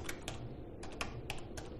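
Typing on a computer keyboard while filling in a form in MS Word, with a handful of quick, light key clicks in short bursts, fairly quiet against a low background hum.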